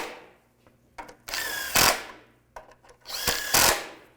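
Power drill or impact tool tightening bolts on the front axle of a Chevy Trailblazer, two loud bursts of whirring with a few short clicks and knocks between them, close up and with no talking.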